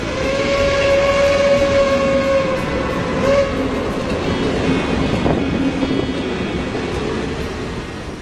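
A steam train rumbles steadily along while a long whistle sounds, fading and returning over the continuous clatter of the cars.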